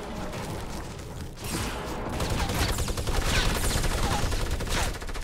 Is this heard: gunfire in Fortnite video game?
yes